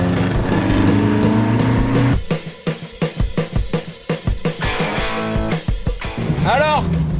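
A vintage Alfa Romeo Spider's engine drones steadily from the driver's seat, then carries on under broken, bursty noise while a voice talks over it.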